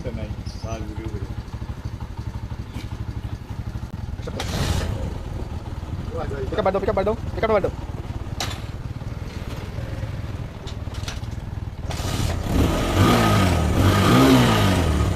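A Bajaj Discovery 135 motorcycle with a charging fault runs with a steady mid-pitched engine hum, rising in a couple of revving bursts, close by, while someone talks over it at times.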